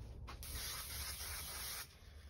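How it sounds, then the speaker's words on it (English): A steady aerosol hiss of 3M Craft Mount spray adhesive sprays continuously for over a second, close and fairly loud, then cuts off abruptly. "I'm just going to add spray glue"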